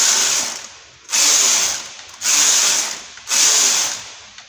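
A knitting machine carriage knitting rows on a mesh bra top, four loud whirring sweeps about a second each, with short gaps where the carriage reverses.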